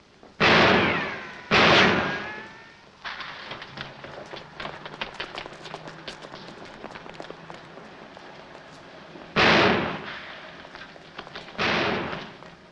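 Gunshots in a 1947 black-and-white comedy film, two loud sharp bangs close together, then a quieter crackling stretch before two more heavy blasts.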